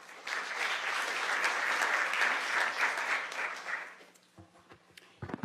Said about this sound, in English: I will ask us all to a round of applause